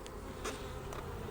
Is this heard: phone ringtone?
no